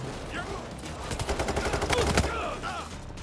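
Rapid bursts of automatic gunfire from a Payday 3 heist shootout, a sustained volley of close, loud shots in the middle with scattered shots before and after, with excited voices talking over it.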